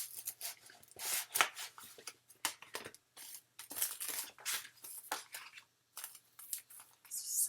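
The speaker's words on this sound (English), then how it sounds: "Sorry for the rustling." Paper and cardstock rustling and crinkling during handmade card making with stamps and small die cuts, a run of close, brisk scraping and crumpling bursts with short pauses, no talking.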